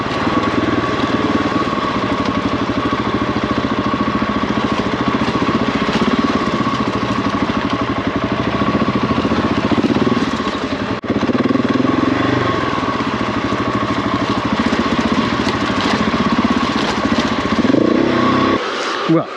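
A big BMW GS adventure motorcycle rides steadily with a continuous droning engine and wind rush that stays loud and close throughout, with a brief dip partway through before the engine noise cuts off at the end.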